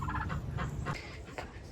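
A farmyard turkey gobbling near a chicken yard, several rapid rattling gobble bursts close and fairly loud, alone without talk.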